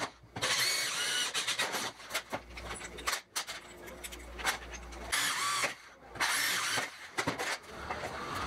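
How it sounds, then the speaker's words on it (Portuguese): A drill with a 5/32 bit bores into metalon steel tubing during locksmith and metalwork fitting. Loud, harsh whirring comes in repeated close bursts separated by brief pauses. "Aqui eu furo com a 5/32, tá?"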